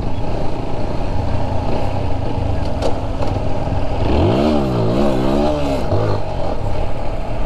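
Motorcycles in a loud-exhaust group ride roar continuously nearby, with one bike revving up in a rising, wavering climb midway, as for a wheelie, over the steady drone of engines.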